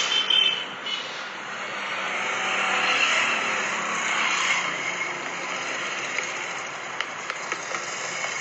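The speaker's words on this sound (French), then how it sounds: "Vous voyez les voitures là" Several cars driving past along a street in Nyanga, a steady broadband traffic rumble swelling and easing as vehicles pass at moderate distance, with no talk.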